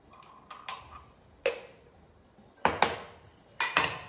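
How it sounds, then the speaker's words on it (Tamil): A spoon mixes raita with salt in a bowl, giving a few irregular, close clinks and taps separated by quiet gaps and growing sharper toward the end. "அப்புறம் தேவையான உப்பையும் போட்டு மிக்ஸ் பண்ணி வச்சிடலாம்."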